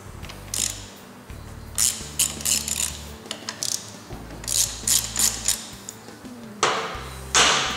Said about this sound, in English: Next we'll remove the brake caliper.